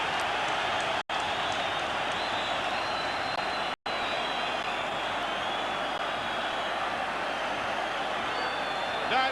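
A dense, steady roar from a football stadium crowd at the 1984 Skol Cup final between Rangers and Dundee United, loud and continuous throughout with two brief cuts to silence.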